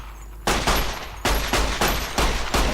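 Gunfire in a modded video game: loud, close bursts of rapid shots in several separate volleys, each starting sharply and rattling on for a fraction of a second, with no talk.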